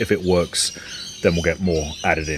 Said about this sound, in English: Apologies for the birds.